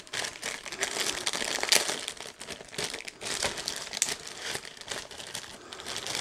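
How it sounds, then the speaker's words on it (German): Plastic film being peeled and crumpled off the packaging of a Logitech Brio 4K webcam, a continuous close crinkling with brief louder crackles and short pauses, no talking. "Folie weg."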